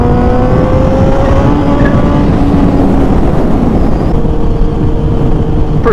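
A motorcycle is ridden along a road, producing a loud, continuous engine drone with shifting pitch and heavy wind rush close to the rider, and no talking.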